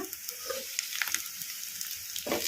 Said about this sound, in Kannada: ಈಗ ಇದನ್ನು ಒಂದು 2 ನಿಮಿಷ ಹೈ ಫ್ಲೇಮಲ್ಲಿ ಫ್ರೈ ಮಾಡ್ಕೊಂಬಿಡೋಣ